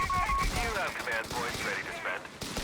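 An MG42 machine gun in Company of Heroes 3 rattles in bursts amid a busy battlefield mix, with other distant shots and effects around it, fairly loud throughout.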